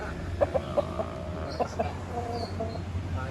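Bangkok fighting rooster giving a handful of short, soft clucks at moderate distance over a low background hum, with brief murmured voices around it.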